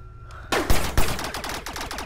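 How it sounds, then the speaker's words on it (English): Rapid bursts of gunfire in the video game Rec Room, loud, close and dense, with sharp reports cutting through a busy, crackling game mix. "They're shooting me."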